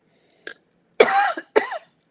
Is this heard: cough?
yes